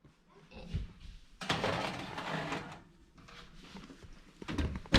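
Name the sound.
oven door opening and closing to put cookies in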